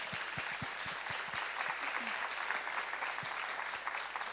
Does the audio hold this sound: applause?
yes